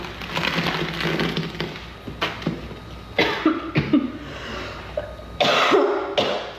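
Several harsh, close coughs from a man with painful ribs come in uneven bursts, mixed with throat clearing and short pauses between them.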